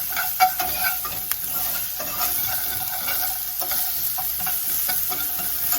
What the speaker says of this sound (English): I'm going to add about 3 tablespoons of finely chopped onion and give those a whiz around to get them started cooking.